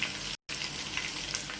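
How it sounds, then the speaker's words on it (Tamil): Marinated chicken 65 pieces fry in a pan of hot oil with a steady, close crackling sizzle, broken by a brief gap of silence early on, with no talking. "இப்போ பாக்கி இருக்க சிக்கன் எல்லாத்தையும் வறுத்துட்டு காமிக்கலாம்"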